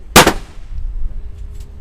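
A single loud rifle report at the 810-metre lane of a long-range shooting match, with a sharp broadband crack and a short decaying tail. A faint, distant metallic ring from a steel target follows.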